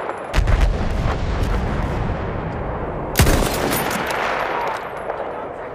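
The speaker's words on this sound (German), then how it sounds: "Maschinengewehr gesichtet!" Battlefield 1 gameplay with loud, dense bursts of machine gun fire and heavy artillery booms, including a big blast partway through, all close and continuous.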